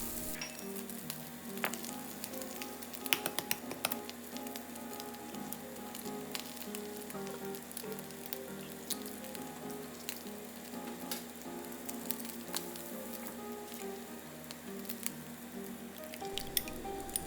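Thin slices of luncheon meat fry crispy in a pan, giving a soft, steady sizzle with light popping and spatter that continues evenly throughout.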